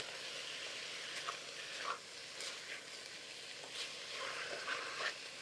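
Ground beef browns in a pan with a steady, soft sizzle and crackle. Faint stirring scrapes and pops come through at irregular moments, and nobody talks.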